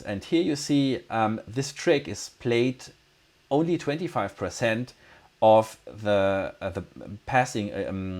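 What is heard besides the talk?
None of the usual background noises is heard.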